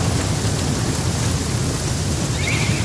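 Steady, dense rain hisses in The Flame in the Flood with a low rumble of thunder underneath, a continuous, fairly loud wash of storm noise with no voices.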